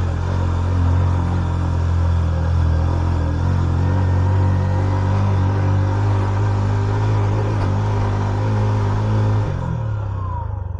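Yamaha YBR motorcycle engine labouring and revving hard while climbing a steep mountain track to Shipishun Meadows, Upper Chitral, Khyber Pakhtunkhwa: a loud, continuous, close droning strain that drops off near the end.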